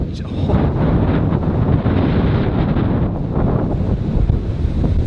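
Surf rolling onto Schoolhouse Beach on Washington Island, a continuous loud wash of breaking waves heavily mixed with gusty wind buffeting the microphone.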